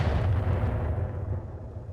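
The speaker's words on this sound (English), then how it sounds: "Firing all weapons." A mech firing all its weapons at once in the video game RogueTech, a heavy rumbling barrage of booms that slowly fades over about two seconds.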